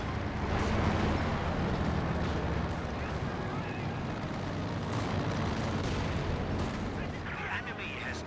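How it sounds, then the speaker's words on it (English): Fragmentation bomb run in Company of Heroes 2, a dense continuous roar of explosions and gunfire rolling through the whole stretch, loud and sustained with overlapping blasts beneath game chatter. "I got another fragmentation bomb run there, or maybe that's the first"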